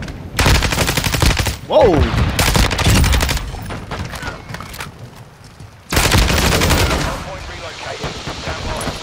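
Loud, dense automatic gunfire from a Lachmann 556 assault rifle in Call of Duty: Modern Warfare II, in long rapid bursts with a brief lull, while a player briefly exclaims over the shooting.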